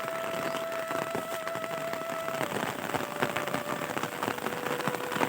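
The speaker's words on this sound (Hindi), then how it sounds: "माशाल्लाह माशाल्लाह बारिश तेज़ हो गई है" Steady rain falling in a Punjab village, dense hiss of drops on surfaces with a faint distant tonal hum running through it, no voices.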